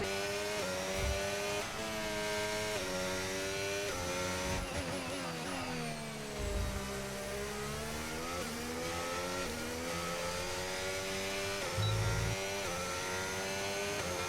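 A Formula 1 car in the F1 25 racing game screams along the track, its high-revving engine loud and continuous, pitch rising through the gears with brief dips at upshifts and a downshift swoop midway.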